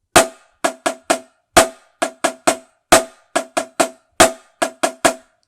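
A snare drum plays a flam accent rudiment with an upstroke over and over, each group a loud grace-note flam followed by two quicker taps, crisp and close in a steady repeating rhythm.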